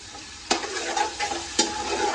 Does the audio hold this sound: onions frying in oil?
yes